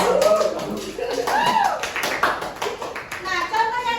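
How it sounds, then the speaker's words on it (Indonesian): Children clap their hands together in a classroom, a fairly steady patter of claps mixed with chatter and a teacher's voice throughout. "Kasih tepuk tangan dulu."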